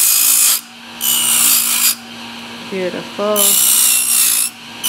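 A JOOLTOOL sander smooths the rough edges of a gun holster in loud, repeated grinding bursts with short pauses between them, and a voice speaks briefly during one pause.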